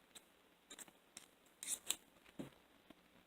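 Scissors cutting crochet yarn, heard as a few quiet, close snips and clicks of the blades in a quiet room.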